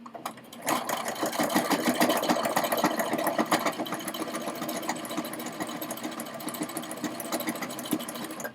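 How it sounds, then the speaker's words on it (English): A sewing machine hums steadily at close range, stitching a small decorative snowflake pattern on a holiday banner, its fast needle rhythm continuous throughout. "I'm going to go ahead and put in a little decorative stitching."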